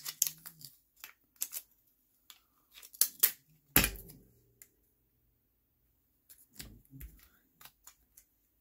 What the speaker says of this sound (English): Tape that down.